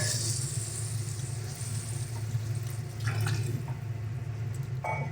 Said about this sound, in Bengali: তো এবারে আমরা এর মধ্যে দিয়ে দিচ্ছি পরিমাণ মতন জল